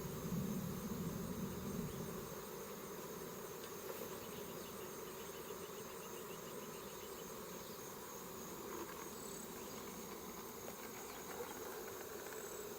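Bees swarm and buzz steadily around a pollen collection box at a hive, a dense, continuous insect drone close by with no talking.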